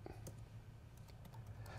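Quick, uneven keystrokes on a Bluetooth keyboard tapping away at close range over a steady low hum, with no voices.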